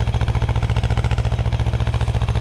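An Ursus C330M tractor pulls a five-furrow plough through stubble, its engine close and loud with a steady, fast, pulsing chug that holds an even rhythm from start to end.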